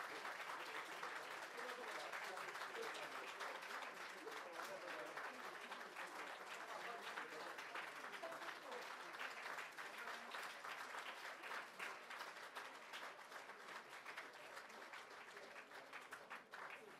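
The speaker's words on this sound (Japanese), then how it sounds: "どうぞ大きな拍手でお送りくださいませ" Long, sustained audience applause at a forum on zero nuclear power and renewable energy as the panelists leave the stage, a dense even roar of many hands that holds steady and begins to thin near the end.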